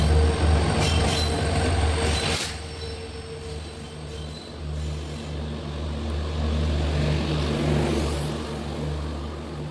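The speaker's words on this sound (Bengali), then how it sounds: "কিছুক্ষণ অপেক্ষা করতে করতে চলে আসলো আমাদের ট্রেন।" A train pulls into a station on a trip from Tripura, its steady, loud rumble of rolling wagons running throughout with high metallic wheel squeal and a sharp clank partway through.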